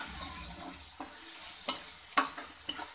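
Tomatoes and salt are stirred in a pan as soft scraping and a light sizzle, with a few small clicks of the spoon against the pan, quiet and close with no talk.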